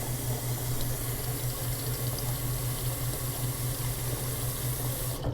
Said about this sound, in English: Once the water is filled up to about that far from the top